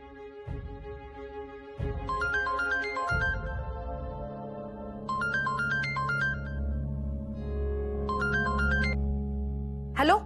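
Mobile phone ringtone in a home drama scene, playing a repeated electronic melody in three separate bursts over low background music, with a few short sound effects early on.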